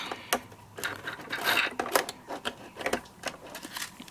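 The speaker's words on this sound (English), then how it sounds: "what I'm going to do is just sew this up" A sewing machine stitches across decorative papers for a card kit binder, making quick, uneven bursts of clicking and rasping. It is close and moderately quiet, with short pauses between runs and no speech.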